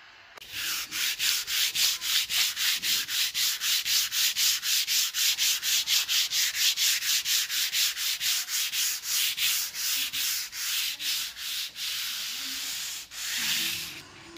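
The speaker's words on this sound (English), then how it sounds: "I'm gonna allow it to dry and then I'll just sand it" Steady back-and-forth strokes of sanding across a chalk-painted wooden dining table, about two rubs per second, close and even, slowing toward the end with a final pass after a brief pause.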